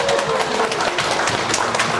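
A crowd claps together in a dense, lively round of applause, steady throughout at close range, at a charity concert in a nursing hospital in Chungju, South Korea.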